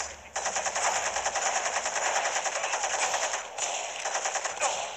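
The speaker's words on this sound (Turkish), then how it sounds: "Şu silahı bir deneyeceğim ya merak ettim." Rapid automatic gunfire from a weapon in the video game Gangstar Vegas, a dense burst lasting several seconds, briefly pausing and then resuming, loud and close.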